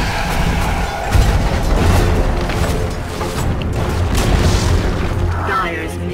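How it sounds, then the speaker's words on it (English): Dire middle tower collapsing in a Dota 2 match, a heavy booming crumble with rumbling low thuds amid ongoing battle noise, loud and sustained, with an announcer voice speaking over it. "Dire's middle tower has fallen."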